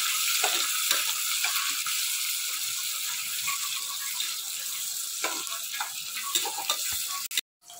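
Onions sauté in a pan for chicken biryani, giving a continuous bright sizzle with occasional spoon scrapes and soft ticks, steady and close, ending in a sharp clatter and brief drop to quiet.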